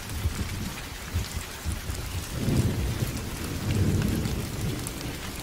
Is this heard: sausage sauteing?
no